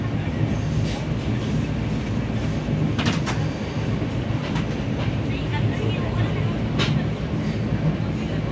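Interior of the Gatimaan Express between Delhi and Agra: a steady loud rumble of the moving train with occasional rattles and clicks throughout, and no voices.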